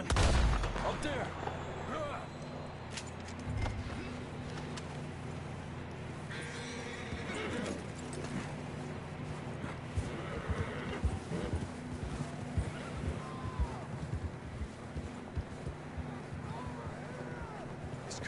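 Horses whinny and clip-clop along a trail in a PS4 Western video game, hooves steady and mid-distance over ambient music and game noise, with occasional gunfire-like bursts.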